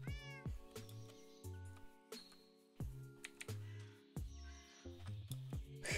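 Game cats in Minecraft meow repeatedly in short, clear, close calls spaced across the stretch, with light clicking like keyboard typing beneath and no talking.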